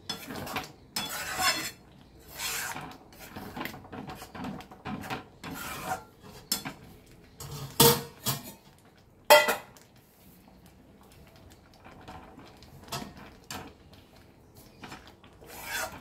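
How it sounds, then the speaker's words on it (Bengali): A utensil scrapes and rubs around a pan while stirring boiled mung dal and raw papaya, giving irregular close scraping strokes with occasional metallic clinks and quiet gaps. "তার আগে একটুখানি নেড়ে নিই"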